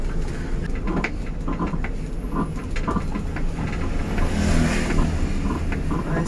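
A moving angkot minibus carries a steady drone of engine and road rumble, with small bumps and rattles from the ride continuing throughout.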